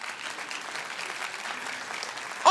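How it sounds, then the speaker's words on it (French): An audience at a student stage evening applauds two musicians who play synth and theremin. The clapping is moderate and steady and ends with a brief louder burst. "On peut les applaudir, s'il vous plaît?"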